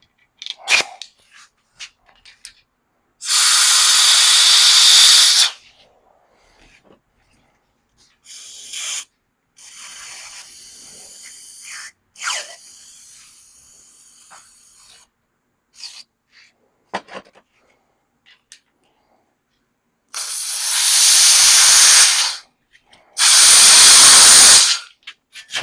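Compressed air blasts in several loud, close bursts of a few seconds each to clean out a grill, separated by quieter clanks and handling noises.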